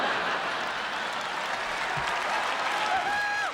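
Live audience applause rises after a stand-up comedian's joke about stuff, a dense, steady clapping from a large theater crowd that continues throughout without a break.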